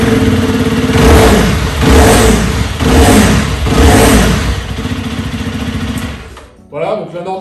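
A Zontes 310 T2 motorcycle's engine and Euro 5 exhaust rev repeatedly in a series of rising and falling surges, loud and close, then the sound cuts briefly before a short final blip.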